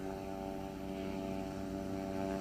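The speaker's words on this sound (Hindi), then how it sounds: "और रनवे पर दौड़ना शुरू कर दिया है हेलीकॉप्टर ने और अब से कुछ देर बाद सीधा आपको आसमान में दिखाई देगा ये एयरक्राफ्ट" Small tourist aircraft starting its takeoff run on a runway in Bhopal, a steady droning engine and propeller hum with a sustained tonal whine, constant and fairly loud with no voices.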